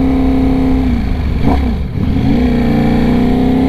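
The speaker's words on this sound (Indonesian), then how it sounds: "Selalu menyenangkan bawa Panigale di BSD." A Ducati Panigale V4 motorcycle is ridden in BSD, its engine loud and close, holding a strong steady tone, dipping as the revs change and then climbing back, with no voices.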